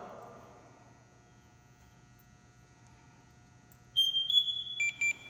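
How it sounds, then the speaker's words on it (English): A steady low electrical hum, then a burst of rapid high-pitched electronic beeps near the end, several short tones in quick succession, as a firefighter's breathing-apparatus air bottle turns on. "All those beeps just means it turned on."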